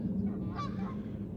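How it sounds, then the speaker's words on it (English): Geese honk in a short burst of several calls over a steady low outdoor rumble at sunrise, moderately near with no talk. "Oh, those are geese."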